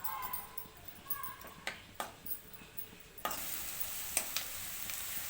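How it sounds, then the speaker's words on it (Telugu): Chopped onions fry in hot oil for paneer bhurji, a steady soft sizzle with several louder stirring scrapes, brightening into a stronger hiss midway through. "ఎర్రగా వేగనివ్వాలి."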